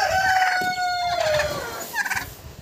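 A bantam rooster crows once, loud and close, in a backyard poultry yard shared with turkeys and ducks, the long call sliding downward before a short squawk follows near the end.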